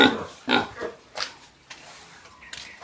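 A pig, one of several kept pigs, grunts in a series of short, nasal bursts, about half a dozen snorts spaced irregularly, fairly close and fading toward the end.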